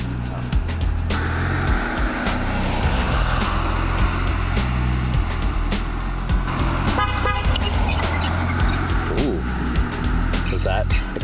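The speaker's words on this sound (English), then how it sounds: "she honked the horn and that made me jerk" A car horn toots amid steady traffic and engine rumble, with people talking over the noise throughout.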